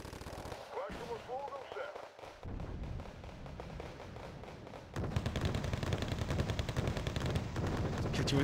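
Sustained rapid machine-gun bursts from a tank in a video game, a dense fast rattle that grows louder and more continuous in the second half, with a voice briefly heard early on.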